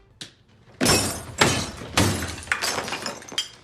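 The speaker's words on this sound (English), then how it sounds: "he stands in front of a mirror and proceeds to smash it with his head 3 times, shattering it" A mirror shatters as a man smashes it with his head three times, each strike a loud, close crash of breaking glass followed by ringing shards, with a small tap before the first blow.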